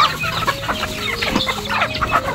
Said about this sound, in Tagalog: Alaga po namin yan na mga manok.